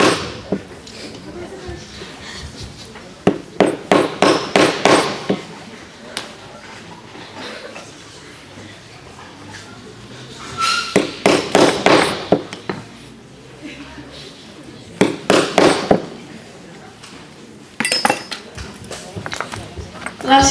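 Leather belt holes are punched with hammer blows in clustered bursts of sharp metallic strikes, some ringing, separated by quieter gaps where a narrator speaks calmly.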